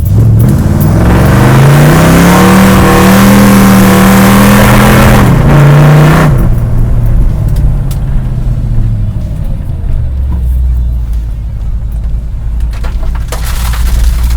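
A 1973 Dodge Dart Swinger does a tire burnout on gravel, its engine loud and close as it revs up steadily for several seconds, then drops to a rough, lower drone.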